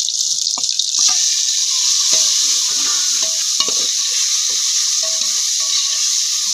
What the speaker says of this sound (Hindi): बस प्याज ब्राउन होने का इंतजार है।